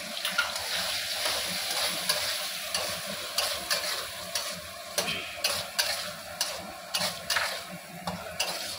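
Spice masala with sugar, salt and turmeric fries slowly over a low gas flame for a chhana curry. A soft, even sizzle runs underneath while a spoon stirs and taps the pan at irregular intervals, close and fairly quiet.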